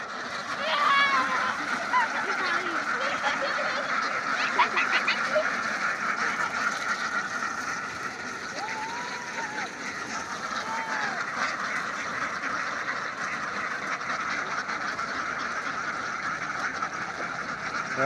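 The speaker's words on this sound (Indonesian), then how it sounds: "Yo, ndelok bebek yo." A large flock of ducks is herded along a river. Many birds quack in a dense, continuous chatter at moderate distance, and individual calls stand out above the steady din.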